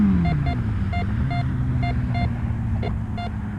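Bounty Hunter metal detector hunting ground with buried car parts, sounding a series of short high electronic beeps in an irregular rhythm over a steady low hum that drops in pitch at the start.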